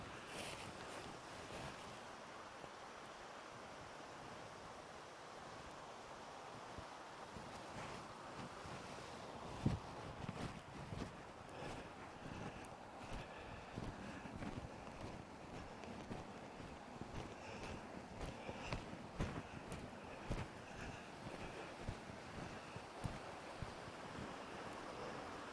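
A waterfall rushes in an unbroken, moderately loud wash of water noise that holds steady throughout, with occasional wind gusts buffeting the microphone and no voices.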